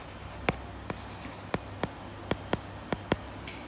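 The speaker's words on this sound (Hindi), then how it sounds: "तो ये भी मैं यहाँ पे लिख देती हूँ" A pen writing on paper, heard as a series of about eight soft, short scratching strokes at an uneven pace, close and faint against a low background hiss.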